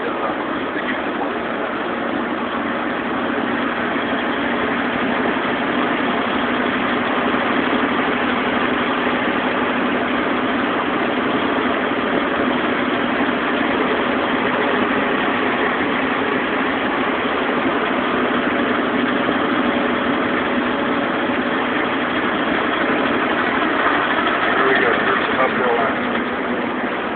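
A heavy truck with a 9-speed transmission running in 8th gear while hauling a heavy load in the mountains: a steady, droning engine hum from inside the cab, constant and fairly loud for the whole stretch, with no talk.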